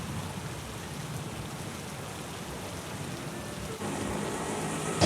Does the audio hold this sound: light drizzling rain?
yes